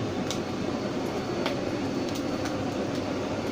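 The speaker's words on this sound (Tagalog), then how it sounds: "Tutudo natin mga boss, blower." A steady mechanical blower on a smokeless wood stove burning waste oil roars continuously up close, with occasional faint clicks and crackles over the constant rushing air.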